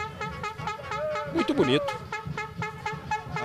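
In a Brazilian football stadium during a Copa do Brasil match, a horn blares in repeated rhythmic toots over crowd noise while a commentator talks.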